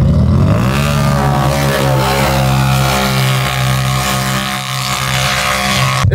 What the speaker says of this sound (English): It's about a 300-foot drag race, so typical style.